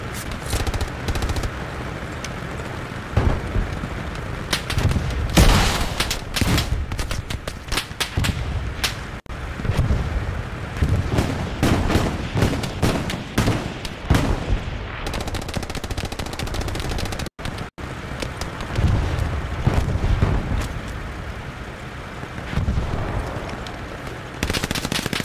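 Sustained gunfire in the World War II shooter Hell Let Loose: bursts of automatic fire and single rifle shots crack close and far in a steady battlefield din, with brief lulls and no voices.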